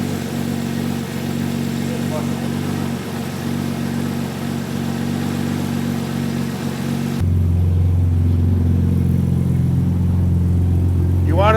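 A 1JZGTE-powered LJ Holden Torana idles loud and steady through its muffler, a deep droning engine note with a resonant hum that thickens near the end, while people talk over it.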